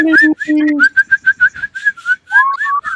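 A person whistling to call a pet bird named Charlie: a string of short repeated whistle notes with some sliding pitches, close and fairly loud, with a bit of voice at the start.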